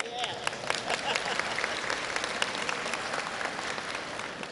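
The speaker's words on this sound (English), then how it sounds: "You can clap for that too." Applause from a crowd at a unity breakfast gathering, a steady patter of many hands clapping at moderate distance with a few sharper claps standing out, voices murmuring underneath.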